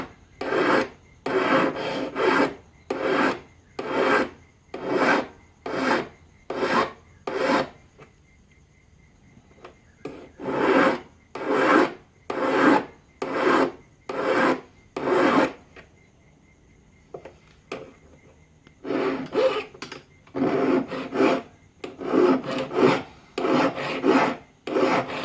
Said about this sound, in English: Using the back of that round file there, the inside of that radius there to keep it.